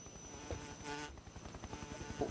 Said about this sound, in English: Did he just get airlifted by a bunch of wasps?